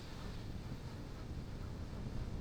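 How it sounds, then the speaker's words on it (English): Strong wind buffets the microphone on an exposed stretch of Australian coastline, a constant broadband roar that stays steady and fairly quiet throughout. "It is insanely windy."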